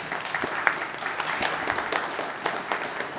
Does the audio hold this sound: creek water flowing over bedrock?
no